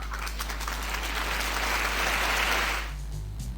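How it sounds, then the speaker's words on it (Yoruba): Audience applause at a Yoruba radio or stage broadcast, a steady wash of many hands clapping that swells and then cuts off abruptly near the end, with no voices over it. "Ẹ bá ń pàtẹ́wọ́ fún un."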